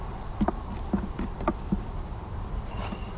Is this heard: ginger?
no